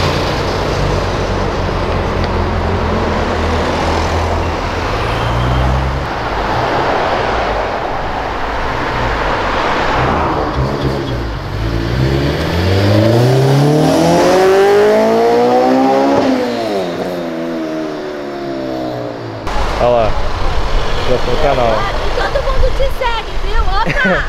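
A Honda Civic Si turbo engine roars nearby, with a loud swooping rev that climbs and falls over steady engine noise, while people talk underneath.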